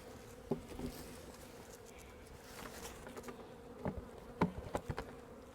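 A steady, faint swarm of honeybees buzzing around the hive during an April inspection hums continuously, with individual bees droning past now and then; no voices.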